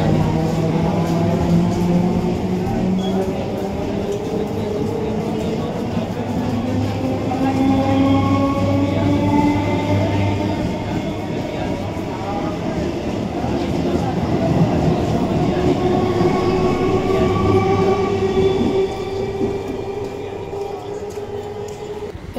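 A crowded passenger train from Bandel rumbles along continuously, its steady roar of wheels on track overlaid by drawn-out metallic squeals and whines that rise and fade throughout.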